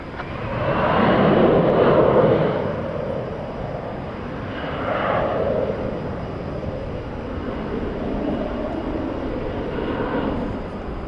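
A plane taking off at DFW Airport at night sends out a broad jet roar that swells loudly early on, then holds as a steady, slowly fading rumble with gentle pulses.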